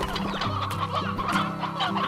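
Hens in the Slime Rancher video game cluck in a busy overlapping chorus, several birds clucking repeatedly over a steady low hum, with no talking.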